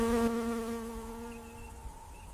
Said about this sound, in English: clouds of buzzing flies gathered around the irritated wounds